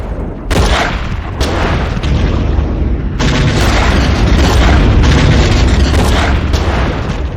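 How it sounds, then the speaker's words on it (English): Rumbling spaceship explosions from a Star Wars audiobook cascade as a raider ship is destroyed, a loud sustained barrage of booms with sharp bursts at the start and midway, continuing without a break and with no talk. "The explosions began in the rear of the ship, cascading forward as the raider was unable to respond in time."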